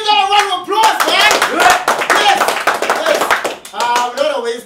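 An audience at a men's conference bursts into a short round of clapping and cheering, loud and close, mixed with shouting voices and whoops throughout.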